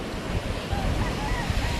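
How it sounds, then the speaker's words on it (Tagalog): Small sea waves wash onto a beach, a continuous rushing surf mixed with heavy wind buffeting the microphone, loud and close throughout. "maliliit na yung alon"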